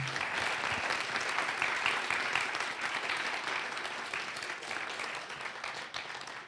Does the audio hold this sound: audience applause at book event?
yes